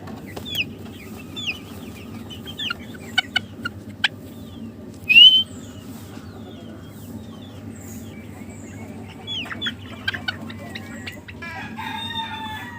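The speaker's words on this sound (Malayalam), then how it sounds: "ആ കോഴികൾക്കായിട്ട് നമുക്ക് ഫുഡൊക്കെ കൊടുക്കാം" Backyard coop of about two dozen laying hens being fed, with steady clucking and occasional sharp calls and a brief loud squawk over a constant low hum, close by and without talk.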